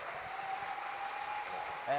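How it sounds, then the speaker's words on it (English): An audience claps at a bar industry convention in Berlin, a dense, steady burst of applause that fades as a voice begins speaking at the very end. "Please give a big round of applause for Mr. Remy from Little Red Door in Paris."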